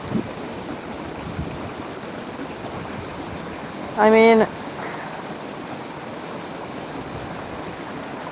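A low, algae-filled river flows in a steady, even rush close by, a constant broadband hiss that runs throughout, with someone speaking briefly over it midway.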